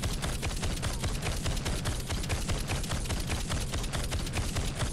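The Shadow Shard DUET gun in Fortnite: Save the World fires continuously at a wall, a dense and unbroken stream of rapid, sharp shots at constant loudness.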